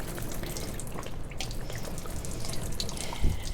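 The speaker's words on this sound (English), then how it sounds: "That's the sound of the water flowing into your house." Simulated rain water pours through an exposed roof deck into a house, a steady close wash of flowing and dripping water with a brief louder splash near the end, no voices.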